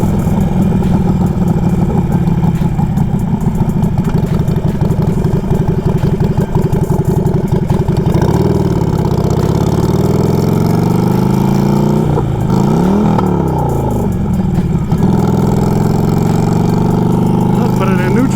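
Harley-Davidson Sportster 1200 motorcycle engine running steadily while riding and turning a corner, a loud continuous low rumble that shifts pitch as the revs rise and fall.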